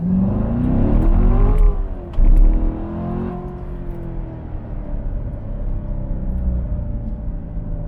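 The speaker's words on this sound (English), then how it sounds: "This car screams." A Chevrolet Corvette C7 Grand Sport accelerates hard in first gear, its engine note rising loud and close, then a brief break at the shift before a lower, steadier engine drone carries on.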